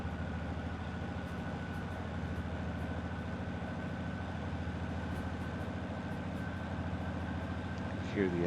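Steady, low engine rumble from a locomotive in the Derail Valley train simulator, holding at an even drone throughout with a brief rise at the end, moderately quiet and close.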